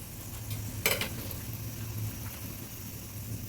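Panch phoron and dried red chillies fry in oil for a mixed dal, giving a low steady sizzle with a brief scraping stir near the start; no one speaks.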